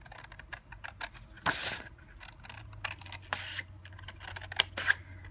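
Paper being cut for a tea time gift envelope, with rapid crisp snips and scraping strokes in irregular bursts, close up and alone.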